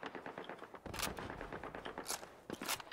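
Rapid, repeated gunfire in a Call of Duty video game bursts close and loud in quick succession, with short stuttering volleys and a few sharper cracks near the end, heard without voices.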